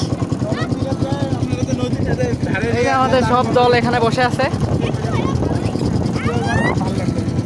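A motor boat putters across a shallow wetland lake (beel), its engine a steady rhythmic chug running under close conversation throughout.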